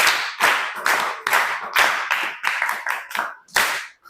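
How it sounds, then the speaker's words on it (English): Classroom of students clapping for a group during an English lesson, a series of loud, distinct rhythmic claps in unison, roughly ten bursts with short gaps between them. "May we clap for that group?"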